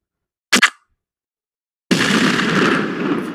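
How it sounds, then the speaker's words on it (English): An AI-generated explosion sound effect: a brief sharp double pop, then silence, then a loud broadband blast that rumbles on and slowly fades, with no voices. "So there you can also get the explosion."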